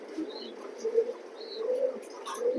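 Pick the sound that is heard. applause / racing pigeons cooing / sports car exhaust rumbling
racing pigeons cooing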